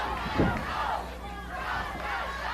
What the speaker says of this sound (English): This crowd is on its feet.